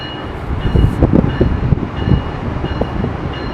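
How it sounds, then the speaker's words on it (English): An Amtrak Acela Express high-speed train arrives at Route 128 station, rumbling past nearby with low, uneven rattling and a faint high whine, loud and steady without any speech. "Train approaching. Please remain behind the yellow line."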